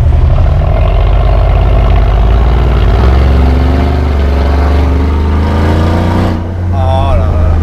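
A Mansory G6x6 engine idles with a deep, loud, steady rumble that continues throughout, while people speak over it.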